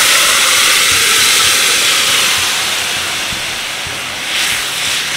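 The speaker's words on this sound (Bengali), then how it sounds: "এবার এর মধ্যে আমি মিশিয়ে দিচ্ছি আগে থেকে সেদ্ধ করে রাখা কাবলি ছোলা" Boiled chickpeas hit a pan of fried spice paste, giving a loud, continuous hissing sizzle that eases slightly midway and swells again near the end.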